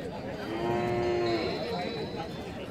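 A cow with her calf at a cattle market in Rajshahi gives one long, drawn-out moo close by, rising over a low murmur of market background.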